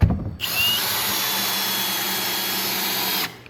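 Power drill driving lag construction screws into wood, one loud steady whir lasting about three seconds, close by, starting abruptly after a brief knock and stopping sharply.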